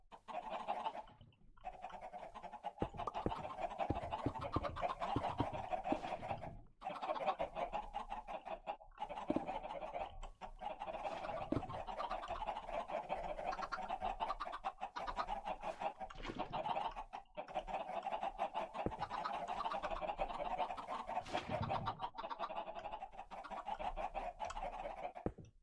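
Chickens cluck continuously in a Minecraft chicken loader, a dense overlapping flock of clucks and squawks at steady volume for the whole stretch, with no talk over it.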